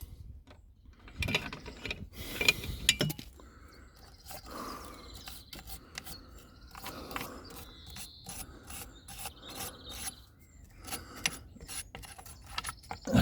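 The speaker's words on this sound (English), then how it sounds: "See if I can free up these bolts, eh? Give it a wire brush as well." Wire brushing and working at seized bolts on a boat engine, with intermittent scraping, rasping strokes and metallic clicks of tools, close by, no voices.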